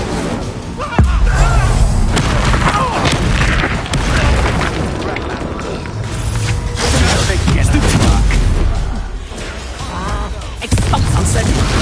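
An Incendio fire spell is cast during combat in Hogwarts Legacy, with loud whooshing bursts and mechanical clatter over dense battle noise and voices.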